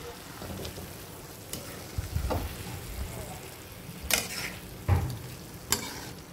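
Rice flour being stirred into a white brinjal curry in a pan gives soft, quiet scraping and sizzling, with a few sharper clinks of a spoon against the pan near the end.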